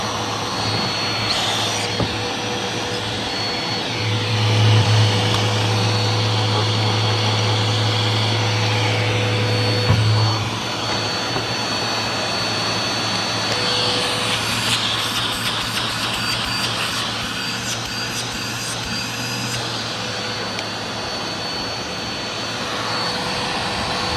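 A Dirt Devil Power Express UD20120 vacuum cleaner runs steadily after a full service, a continuous loud whine and rush with a brief deeper hum partway through.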